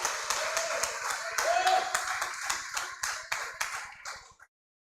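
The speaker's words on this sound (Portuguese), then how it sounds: "Aplauda Jesus, porque Ele é fiel" A church congregation claps in a steady rhythmic beat for several seconds, loud and fairly close, with faint voices mixed in before the clapping stops abruptly.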